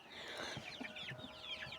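Young chickens cluck and peep at close range in a coop, eager to get out to their outdoor enclosure, a busy overlapping run of short, high calls over a constant low background.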